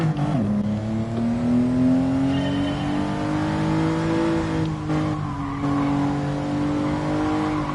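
A Mitsubishi GTO in Gran Turismo Sport revs hard and loud on a race track, its engine note dipping after a shift then rising steadily, with a brief drop midway before climbing again.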